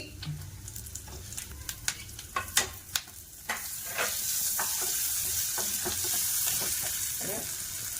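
Green chillies and a little ginger frying in a pan, with a run of scraping stirring strokes and clatters early on, then a steady bright sizzle that fills the rest.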